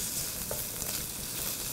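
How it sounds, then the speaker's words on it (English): Zucchini sizzles softly in hot olive oil, a steady crackling hiss that stays quiet and even throughout. "You can hear them start to sizzle in the olive oil."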